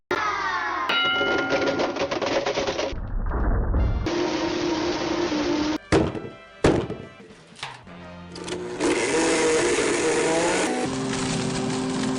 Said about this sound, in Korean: 이 블렌더가 여러분들이 알고 있는 그 블렌더 맞습니다.